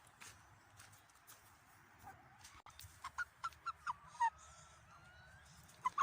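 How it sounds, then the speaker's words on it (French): Several short, loud squawking calls ring out from a rooster in a farm henhouse, coming in a rapid series over quiet background rustle, then two more calls at the end. "donc ça c'est un coq"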